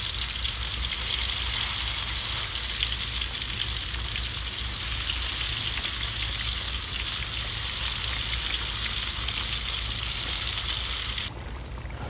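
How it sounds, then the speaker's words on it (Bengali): Loitta fish deep frying in a pan of oil outdoors in the Sundarban, a steady, loud, even sizzle running unbroken from start to finish with no voices. "আমাদের মাছ ভাজি চলছে"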